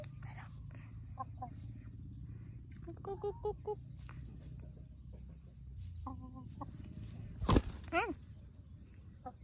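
Free-range laying hens on a small family farm give scattered clucks and short calls over a steady insect and ambient hum, with one louder burst near the end; faint voices are present in the background.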